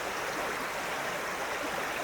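A river flowing outdoors, a steady broadband wash of moving water that holds constant and fairly close throughout, with no voices over it.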